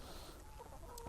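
Chickens, a new flock of about a hundred young hens on a small farm, clucking faintly and continuously against a low steady background, with no talk.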